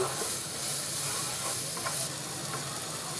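Chopped tomatoes go into a pan of masala bhindi and are stirred in, with a loud, continuous sizzle of frying and soft scraping stir sounds running the whole time.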